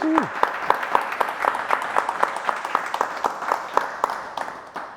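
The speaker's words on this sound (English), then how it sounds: "So a bit of a round of applause for Shane today, please." A small gathering in a Swansea bike store applauds rugby legend Shane Williams with a steady run of individual handclaps, moderately close, tapering slightly toward the end.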